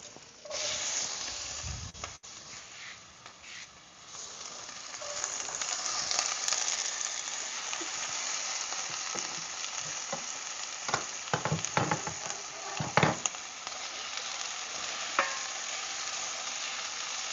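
Onions go into a hot pan and start frying in a home kitchen, a close continuous sizzle that swells after the first few seconds and carries scattered scraping and clinking of stirring over the hiss.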